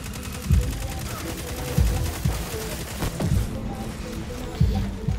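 Gunfire in a video game side mission: a few heavy shots land at irregular intervals over a steady busy game backdrop, with voices talking faintly underneath.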